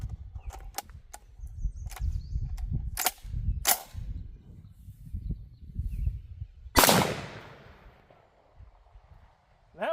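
A sharp, loud gunshot firing buckshot loaded with Skittles cracks out once and rings off, preceded by scattered clicks and handling noises, with low rumbling and faint voices around it.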